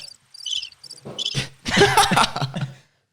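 Crickets chirp in quick pulsed bursts at the start, then laughter and other voices break in loudly and cover them.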